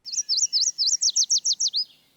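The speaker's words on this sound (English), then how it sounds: "Yellow warbler, for instance. Sweet, sweet, sweet, I'm so sweet." A bright, high yellow warbler song: a quick series of about eleven sweet, slurred whistled notes that speed up and sharpen toward the end, clear and close.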